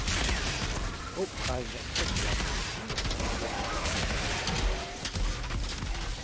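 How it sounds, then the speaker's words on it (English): Rapid bursts of auto shotgun fire in a video game crack out in dense, loud volleys that nearly fill the clip, with a player's brief voice mixed in. "Oh, it's an auto shotgun."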